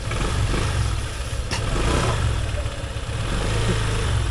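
A motorcycle engine runs steadily nearby, a constant low rumbling drone with only slight variation in level and no speech.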